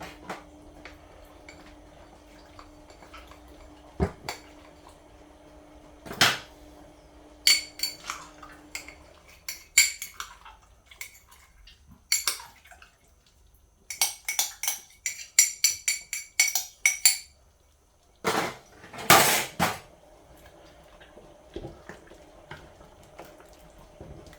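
Sago pearls poured and stirred in a pot for binignit, with intermittent clinks of a spoon against metal and bursts of scraping and clattering between quiet pauses, close and fairly loud.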